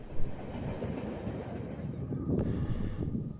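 A train rumbles past close by at a railfan park in North East, Pennsylvania, with a steady heavy roar of wheels on rails and faint rhythmic clacking throughout.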